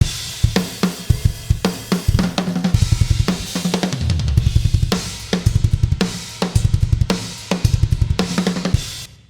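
An unprocessed kick drum, all plugins bypassed, plays within a metal drum kit pattern of rapid kick runs and cymbal hits, loud and steady with no voices.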